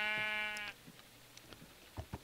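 Blocky Minecraft sheep give one clear, loud synthesized bleat at the start, followed by a few faint, scattered taps and clicks of game sounds.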